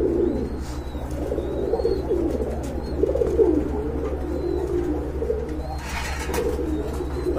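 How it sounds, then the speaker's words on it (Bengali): A pair of Garra fancy pigeons coo nearby in repeated low, rolling phrases over a constant background hum, with faint higher chirps now and then. "প্রথমে আপনারা দেখতে পাচ্ছেন এক জোড়া গড়রা কবুতর রয়েছে"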